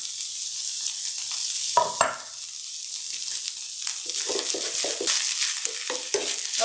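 Broccoli leaves and onion sauté in a pan with a continuous close sizzle, broken by a few scraping stirs and clatters near the middle and brief clinks toward the end.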